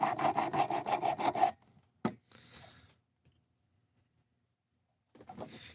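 A knife blade is drawn repeatedly across the stone of a Work Sharp Precision Adjust sharpener, giving about ten quick, even rasping strokes up close. A single scrape follows, then near silence, then faint handling noises.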